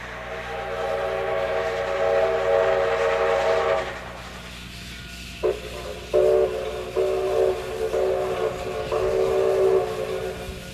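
A Canadian National steam locomotive from 1958 runs loud and close, its whistle sounding in sustained blasts, then in several shorter sharp blasts over steady rumbling.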